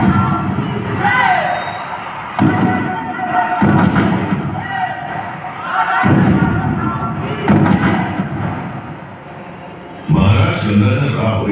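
Cannon salute booms from a fort light and sound show, several heavy thuds spaced a few seconds apart beneath a Hindi narrator's voice and crowd-like effects.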